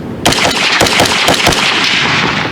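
Custom-built AR-15 rifle with a pistol-length gas system firing .300 AAC Blackout, a rapid string of about six loud, closely spaced shots with sharp reports ringing together outdoors.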